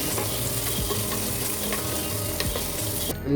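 Half a medium onion frying in a pan for Mangalorean chicken curry, a close, steady sizzle broken by rhythmic stirring scrapes, with no voices.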